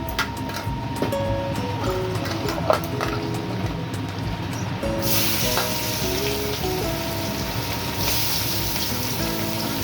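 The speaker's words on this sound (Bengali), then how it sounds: "বড়ার মধ্যে তেল দিয়ে দিয়েছি ভেজে নেব আর নারকেল ভাজাটা করলে খেতেও খুব সুন্দর লাগে" Grated coconut fries in hot oil in a pan, a dense, even crackling sizzle that runs throughout, close and fairly loud, brightening and intensifying partway through.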